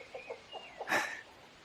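Chickens near their coop give a few soft, faint clucks at a steady pace, then one brief, louder squawking cluck, with no voices.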